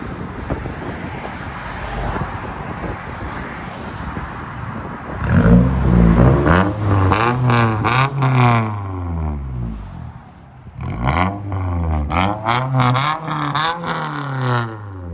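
A loud straight-piped 2008 Toyota Solara exhaust revving hard several times, rising and falling in pitch with a raspy, unmuffled roar, after a stretch of rumbling idle.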